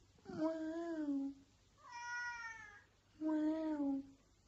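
A man trading meows with his cat: three drawn-out, clear meows close by, one noticeably higher-pitched than the others, with short quiet gaps between them and the human voice imitating the cat.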